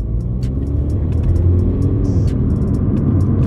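A Mini JCW GP3 engine pulls hard with a steady, loud low rumble and rising revs, heard from inside the car with no talk.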